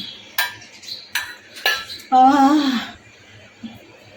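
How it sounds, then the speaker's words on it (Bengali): A steel tiffin box holding steamed mustard prawns is shaken and its lid opened, making several sharp metallic clanks and rattles followed by a brief ringing scrape, loud and close with no talking. "স্টিলের টিফিন বক্স তো ভীষণ ঝাঁকা খাচ্ছি আমি"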